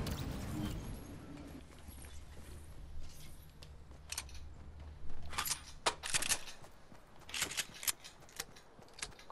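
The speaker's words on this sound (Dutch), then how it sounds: "Ik hoorde ze al lopen." In a Fortnite match, enemy players' footsteps patter in quick, uneven bursts that grow busier and louder toward the end, mixed with faint game ambience.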